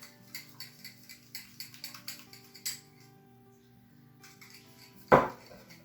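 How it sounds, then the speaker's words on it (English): Whisk beating lumpy flour batter for vegan hot cross buns, a quick run of light rhythmic tapping and scraping against the bowl, close and fairly quiet, then a single louder knock near the end. "I'm just going to grab a whisk. This is a little bit too lumpy for my liking"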